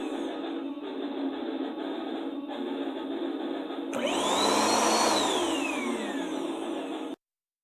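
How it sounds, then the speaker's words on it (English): A vacuum cleaner whirs steadily, then its motor pitch rises and swoops as suction changes before it cuts off abruptly. "we're going to use the vacuum as an instrument."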